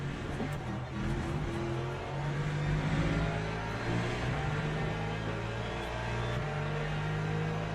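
Race car engines in the Le Mans Ultimate racing game, with a Corvette and a Porsche on track: steady, sustained engine drones with shifting pitch layers and a continuous whir, running throughout without talk.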